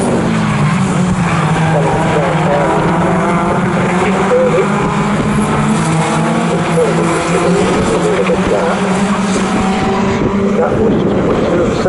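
MG racing cars roar past on the Snetterton circuit during an MG Owners Club championship race, a loud continuous engine drone with shifting pitch as the pack streams by, tyres faintly squealing.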